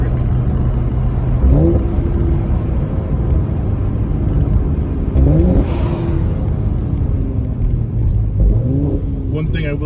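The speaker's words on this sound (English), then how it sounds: "This is the stock performance exhaust from Mercedes." Mercedes C43 AMG with the stock performance exhaust and a Eurocharged Stage 1 tune, heard from inside with windows down: engine drones steadily with three rising revs of acceleration, loud and close.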